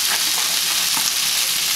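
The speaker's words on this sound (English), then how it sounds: "We're gonna put in our mushrooms and let them cook along with the onions." Mushrooms and onions sizzling in a pan for creamy mushroom pork chops, a steady close crackling hiss throughout with no voices.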